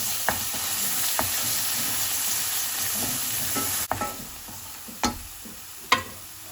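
Beef balchao masala mixture being stirred in a pan, a steady frying hiss with a few sharp scrapes and clinks of the spoon against the pan at irregular intervals, close and fairly quiet.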